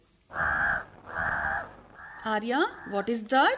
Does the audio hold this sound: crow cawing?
yes